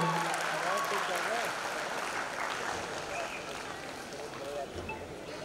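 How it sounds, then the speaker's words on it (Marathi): An audience claps at the Maharashtra State Film Awards ceremony, a steady and fairly loud wash of applause that lasts throughout with a murmur of voices mixed in. "जोरदार टाळ्या जरा होऊ दे, जरा जोरदार टाळ्या."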